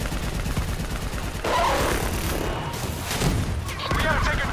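Gunfire from Call of Duty: Black Ops III, continuous dense rounds and bursts filling the battle scene at steady loudness, with shouting voices mixed in over the shooting.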